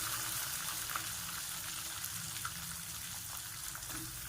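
Onions hit hot oil with fenugreek seeds while making dried fish thokku, giving a dense, continuous sizzle and crackle close up, with small pops scattered throughout and no talking.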